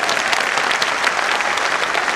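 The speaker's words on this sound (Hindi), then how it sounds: "इतना ही ताली नहीं, जोरदार ताली बजाइए।" An audience at an Amway Diamond event bursts into loud, dense applause. The clapping is close and sustained throughout, with no voices.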